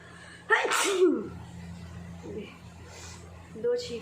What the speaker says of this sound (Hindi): दो छींक आ गई मुझे